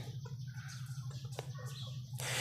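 Chickens cluck in short, scattered calls inside a cage, close by, over a steady low hum, with a brief burst of rustling noise near the end.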